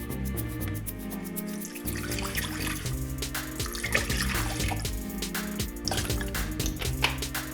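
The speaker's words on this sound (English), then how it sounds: "we're now going to add some water here" Water pours steadily into a blender while a witch hazel and aloe vera toner is being made, a continuous close splashing fill with no voices.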